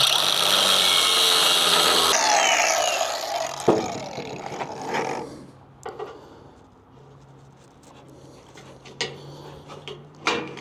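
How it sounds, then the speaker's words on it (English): A power drill bores into a flat bed trailer, loud and close, with a sustained whine lasting a couple of seconds before it winds down, followed by scattered clanks and handling noises. "I'm just drilling it."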